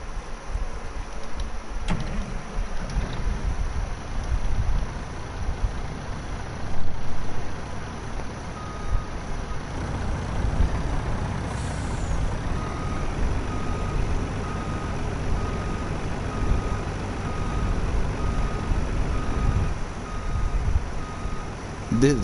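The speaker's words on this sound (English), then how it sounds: "I'm gonna go ahead and fire up the truck" Virtual truck in Farming Simulator 19 on the Ravenport map starts up and idles with a steady low engine rumble, then backs up while a faint repeating reversing beep sounds, alone without talk.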